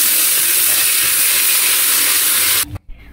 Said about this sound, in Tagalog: Pinainit ko na yung palayok, lagyan natin ng mantika gamit yung mantika ng adobo.